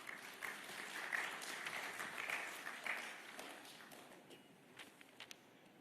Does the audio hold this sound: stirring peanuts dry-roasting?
no